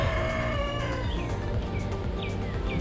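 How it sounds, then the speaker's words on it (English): A rooster crows on a Nassau street in the Bahamas, its calls rising over steady outdoor background noise and distant voices. "Rooster wanted to make it on YouTube."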